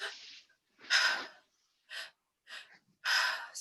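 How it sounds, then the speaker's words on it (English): A three-part noisy breath drawn in and let out through the mouth as a breathwork demonstration, heard as several separate breathy bursts with short gaps, close and fairly soft, with no talking. "it's a 3-part breath through the mouth, and it goes in"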